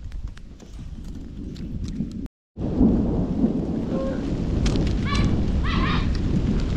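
A monsoon downpour in rural Konkan: steady heavy rain with deep rolling thunder, a momentary gap in the sound, and faint higher calls over the roar.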